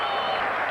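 Crowd roaring at a 1983 Balmain versus Canterbury rugby league match, a dense, continuous wash of cheering and applause filling the whole short moment.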